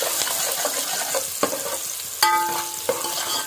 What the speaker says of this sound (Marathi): त्याच्यात असा तेल आणि तेल पण तापलेला आणि त्याच्यात आता टाकायचो मस्त कांदो.